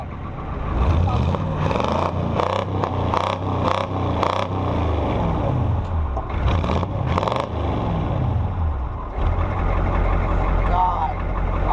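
A non-turbo 350 V8 car engine idles after a cold start, a loud, steady rumble with slight uneven surges, while people talk close by.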